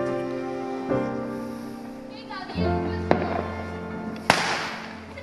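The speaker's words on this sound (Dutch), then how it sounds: "Die steekt natuurlijk wel echt vuurwerk af." Fireworks pop and crack outdoors, a few sharp bangs spaced apart over a hum of background noise and distant voices.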